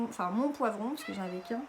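A house cat meows at close range in a home kitchen, its short plaintive cries overlapping someone speaking French nearby.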